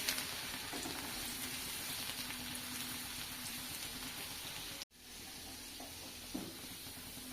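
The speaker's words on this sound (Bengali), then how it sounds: "এবার দিয়ে দিচ্ছি এখানে 1 টেবিল চামচ রসুন কুচি। ব্রাউন করে ভেজে নিচ্ছি।" A tablespoon of chopped garlic fries in hot oil until brown, a tempering for drumstick dal, giving a steady, dense crackling sizzle that runs without a break, dips out for a moment, then resumes a little softer.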